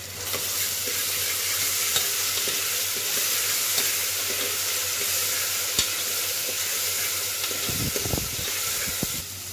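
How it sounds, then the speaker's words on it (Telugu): A mixture of mint leaves, coriander, tomatoes and ginger-garlic paste fries in a pan for bagara rice, giving off a steady, loud sizzle with a few stirring scrapes near the end. "పుదీనా ఆకులు, కొత్తిమీర, టమాటాలు, ఈ మిశ్రమం అంతా బాగా వేయించుకుందామండి"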